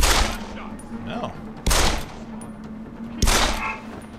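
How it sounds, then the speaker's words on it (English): Gunfire in Deus Ex: Human Revolution, The Missing Link: three loud, sharp shots or short bursts roughly a second and a half apart, each trailing off over a low in-game hum. "Have you noticed that I'm shooting at you?"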